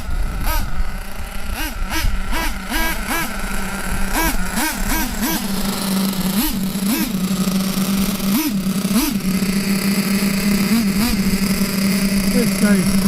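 Close and loud, a small nitro model engine buzzes in a steady whine while the throttle is blipped again and again, each burst swooping up and dropping back.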